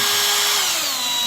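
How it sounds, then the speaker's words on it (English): A power drill runs continuously at close range while a wooden composter is built, its high motor whine sliding slightly lower in pitch as it bores in, with no voices. "Keep the drill bit down."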